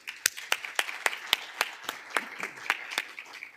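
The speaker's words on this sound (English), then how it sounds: "please join me in giving a round of applause for our final panel today" A small audience at a university energy panel discussion claps for the panel, with sharp, distinct hand claps in a brisk, uneven rhythm, fairly quiet and without voices.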